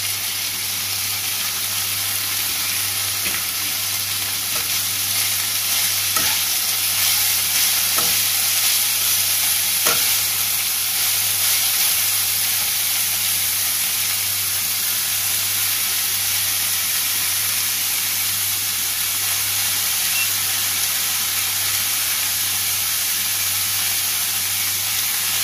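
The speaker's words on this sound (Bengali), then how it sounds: "এবার আমি আমার ওয়াশ করা বাঁধাকপি এর মধ্যে দিয়ে মিক্স করে নেব।" Washed cabbage is stirred into a frying pan of chicken samosa filling, a steady sizzle and hiss running throughout with occasional scrapes of the spoon, close and continuous with no voices.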